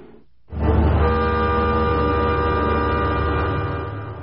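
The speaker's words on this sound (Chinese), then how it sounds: "一列火车缓缓驶进熊本的阿苏火车站，但这可不是普通的火车，而是豪华的七星列车。" The luxury Seven Stars sleeper train pulls into Aso station in Kumamoto, a loud sustained horn or whistle tone starting abruptly and holding for several seconds before slowly easing.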